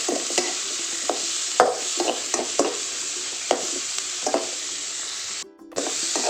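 Tomatoes and green chillies sautéing in a pan for a sardine chilli curry, a steady close sizzle broken by repeated scraping stirs of the spoon, alone without talk.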